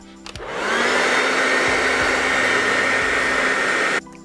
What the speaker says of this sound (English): you could warm it up with a hair dryer a little bit, just to try to make it a little bit more flexible